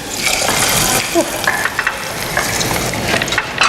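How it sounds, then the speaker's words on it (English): Hot oil is poured into boiling dal and sizzles and crackles loudly and continuously, with some stirring and clatter in a TV studio kitchen. "you want to make sure that your oil is hot when you add it to the boiling dal, because you need to hear this"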